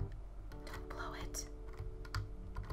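Fingernails tapping the keys of a computer keyboard in quick, irregular clicks, close up, with soft murmured voice sounds underneath.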